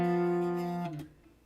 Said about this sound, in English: a dissonant harmony might sound like this